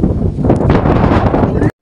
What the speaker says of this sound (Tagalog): Super lakas ng hangin.